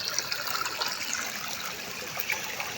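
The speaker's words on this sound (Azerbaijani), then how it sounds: "Suprama yerdən qaynayır." Spring water bubbles up out of the ground, giving a steady gurgling, trickling wash of water that sounds close and continuous.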